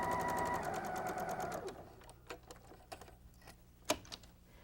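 A sewing machine stitches a quilt seam, running in a fast, steady whir up close for about two seconds before stopping, followed by a few light clicks and taps of handling.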